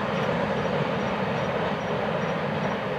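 A train rumbles steadily past at close range in the early morning, a dense continuous roar of wheels and cars with no voices.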